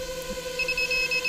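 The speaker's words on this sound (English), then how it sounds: "After it's done, it's going to beep this pattern." A small 170 mm tricopter's flight controller beeps a repeating pattern after finishing tail tune, steady electronic tones pulsing in a regular rhythm over a faint background hum, loud and close.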